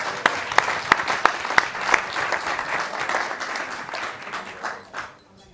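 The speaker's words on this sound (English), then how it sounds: "We'll give a round of applause for all those videos." An audience at a Hare Krishna temple gathering claps warmly, a few sharp individual claps standing out over the steady patter before the applause fades away to silence.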